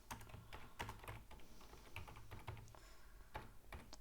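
Someone types code on a computer keyboard with rapid, uneven clicking keystrokes, close and continuous with brief pauses, and no talking.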